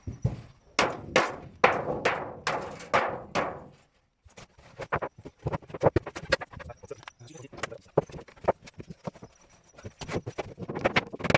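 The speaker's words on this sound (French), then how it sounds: "je vais écraser la partie de tôle supplémentaire" A hammer flattening excess sheet metal for a DIY chicken coop, with a run of loud, regular metallic blows followed by a quicker, lighter series of taps and knocks, close by.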